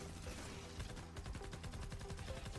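Rapid minigun fire as a hero ability in Fortnite Save the World at a Stonewood Storm Shield defence, a dense continuous rattle of shots that runs loud and steady throughout.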